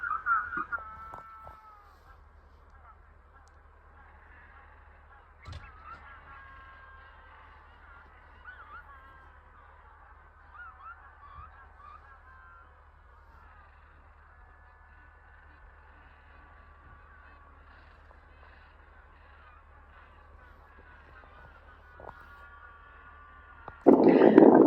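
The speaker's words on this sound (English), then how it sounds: "Their braying calls carry far and wide, even at night." Penguins in the Falkland Islands give braying, honking calls, several overlapping harmonic cries at moderate distance across the whole stretch, with a louder burst near the end and a low steady rumble of wind or surf beneath.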